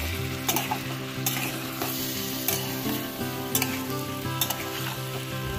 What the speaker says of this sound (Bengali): সবজিগুলোকে মশলাগুলোর সাথে বেশ অনেকটা সময় ধরে কষিয়ে নিয়ে দিয়ে দিচ্ছি সামান্য জল, যাতে পুড়ে না যায়